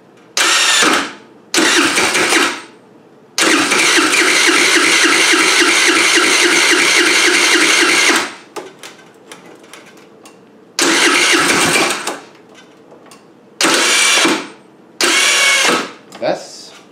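A 2013 TaoTao Pony 50 scooter is cranked on its electric starter several times in short loud bursts, catching once and running for about five seconds before cutting out, then further brief cranking attempts follow.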